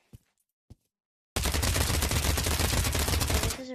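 A gun in the VR game Pavlov fires a rapid automatic burst of about two seconds, loud and dense, preceded by two small clicks and ending abruptly.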